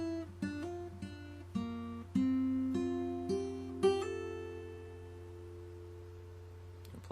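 Acoustic guitar picking the opening of a song, played slowly as single plucked notes with a hammer-on, each note ringing out clearly and alone, close and moderately quiet.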